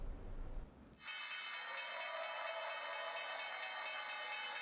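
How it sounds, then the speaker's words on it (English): Opening bell ringing at the New York Stock Exchange, a loud sustained metallic clang that starts after a brief burst of crowd noise and rings on in rapid, even pulses, with no voices over it. "ringing the iconic opening bell at the New York Stock Exchange on Thursday"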